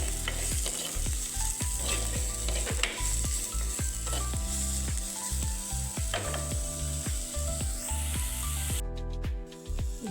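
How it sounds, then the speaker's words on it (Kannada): Onions sizzling as they fry in a pan for palak gravy, a steady close sizzle broken by repeated rhythmic scraping and clicking of stirring against the pan. "ಈರುಳ್ಳಿ ಹಾಕ್ಕೊಳ್ತಾ ಇದ್ದೀನಿ. ಚೆನ್ನಾಗಿ ಫ್ರೈ ಆಗಬೇಕು."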